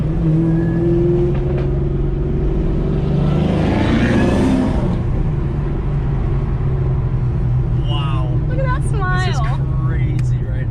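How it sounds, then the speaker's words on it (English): A 2004 Ford Mustang SVT Cobra Terminator's engine rumbles loudly and steadily, swelling briefly as it revs, while people talk over it and a higher whine rises and falls near the end. "My brand new to me 2004 Terminator Cobra"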